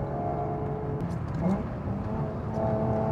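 An Alfa Romeo SZ's engine hums steadily from inside the car while driving, a continuous mid-level drone with slight rises in revs and no talking.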